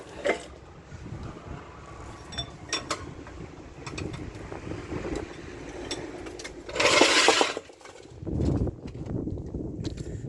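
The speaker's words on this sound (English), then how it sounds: "Wind's picking up, it's blowing the tripod about" Gusts of wind buffet a camera tripod outdoors, producing bursts of rumbling microphone wind noise and rattling knocks among scattered clicks.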